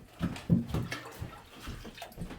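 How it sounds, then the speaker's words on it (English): Hot water runs steadily from a kitchen tap for raw-milk Raclette cheesemaking, a close splashing flow with a few louder surges near the start. "I am just going to get it from my tap, my hottest tap that I have"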